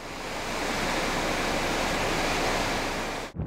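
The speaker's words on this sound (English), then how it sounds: "here's the beautiful Merced River that flows out of Yosemite." The Merced River flows out of Yosemite through its canyon, a loud, steady rushing roar of water that continues unbroken and then cuts off abruptly near the end.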